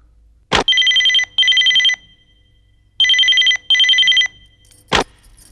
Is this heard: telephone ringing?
yes